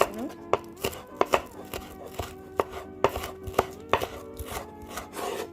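A knife chops through plantain on a cutting board, sharp knocks landing in an uneven but steady rhythm, close and clear with no talking.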